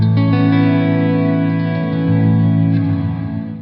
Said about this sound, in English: And then a maximum reverb.